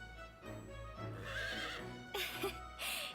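A horse in the Fire Emblem Warriors video game neighs in a quavering whinny, followed by sharper bursts over a low background music bed.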